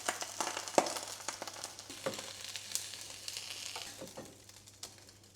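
Eggs frying in a pan beside quinoa, sardines, broccoli and avocado, giving a steady close sizzle broken by light scraping and stirring knocks.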